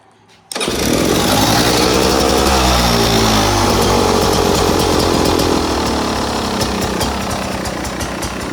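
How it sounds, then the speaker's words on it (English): A 2025 Beta 250 RE two-stroke dirt bike engine fires up abruptly after a brief quiet moment, then runs loudly and steadily with a raspy, buzzing idle close by, no talking. "Okay, just got the bike pulled out. Let's give it a start. It might need the choke, so we'll see."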